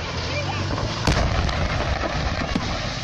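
Blasts at a fireworks market in San Pablito outside Mexico City, with a sharp loud bang near the one-second mark and another around two and a half seconds over a dense, continuous roar of crackling and rumbling noise.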